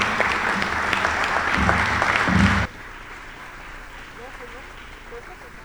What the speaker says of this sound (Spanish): Demos un aplauso de bienvenida